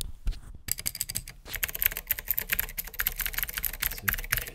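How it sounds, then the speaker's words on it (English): Clicky mechanical keyboard of a Commodore C64X computer being typed on, a steady run of sharp close-up key clicks with a short pause near the start. "It's a clicky keyboard."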